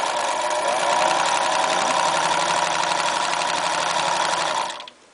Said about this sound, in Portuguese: vamos nós para a máquina de costura